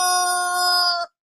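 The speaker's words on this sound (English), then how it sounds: "Wait, hold on. It's more chickens." A rooster lets out a single loud, close crow about one second long, a bright harmonic call that cuts off abruptly into silence.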